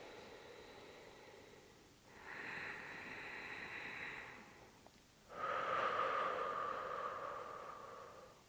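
Slow, deep breaths during chair yoga, a faint airy inhale then a louder, longer exhale, close and quiet with no talking.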